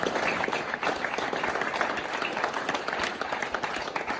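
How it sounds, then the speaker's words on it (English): A crowd of footballers and supporters at a junior football county championship celebration applauds, dense hand clapping sustained for several seconds with a murmur of voices underneath. "So I give them a round of applause"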